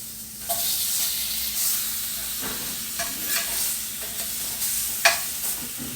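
Food sizzles steadily in a hot pan, a constant crackling hiss broken by a few louder spatters and scraping stirs.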